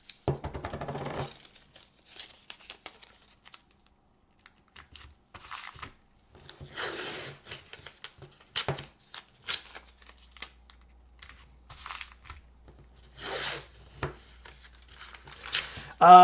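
Repeated bursts of crinkling, ripping tape with sticky peeling sounds as tape is applied in layers to a Float65 keyboard, close by, coming in irregular clusters over about sixteen seconds.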